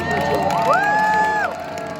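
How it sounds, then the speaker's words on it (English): A crowd at sunset at Piazzale Michelangelo in Florence lets out a loud cheer for a newly engaged couple, with a rising whoop-like shout over the crowd noise, short and close. "everyone had a very loud cheer for them"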